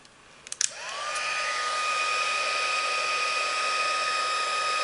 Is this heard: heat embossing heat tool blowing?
yes